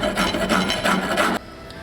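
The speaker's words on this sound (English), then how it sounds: "You can also use a round file or rasp to take out the rounded bottom" A rasp files wood for a wooden sprocket, close up, in about four quick rough rasping strokes that stop abruptly, followed by quiet.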